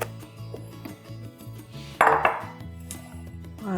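A saucepan clinks and clatters on a stove as it is set down and handled, with a sharper metallic knock partway through and smaller clinks after, over steady background music while milk is heated to melt chocolate for a cake.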